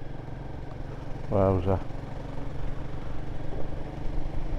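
A Royal Enfield Guerrilla 450 motorcycle being ridden and run in at low revs hums steadily throughout, with the rider briefly exclaiming over the engine.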